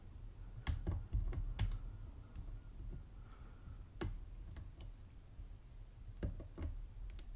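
Lock pick working the pins of a GreenteQ Orion 3-star euro cylinder lock, producing faint, irregular small clicks and ticks at close range, scattered a few per second.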